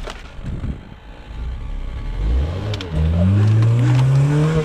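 A scooter engine, just back from a valve adjustment, revs up close and loud, its pitch climbing in rising sweeps and then holding at a high, strained whine.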